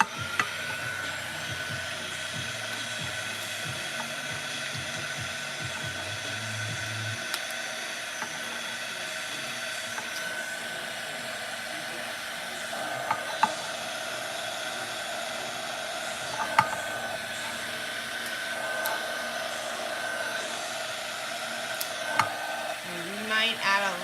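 Heat gun or dryer blowing hot air over poured epoxy, a steady, even hiss-like whoosh that runs unbroken throughout, with a few faint clicks and knocks and brief low speech early on.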